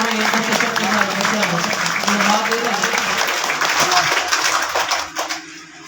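An audience at a school's annual results ceremony in Pakistan applauds a prize-winning student: sustained clapping from a crowd fills the room, with voices mixed in, before it thins and fades near the end.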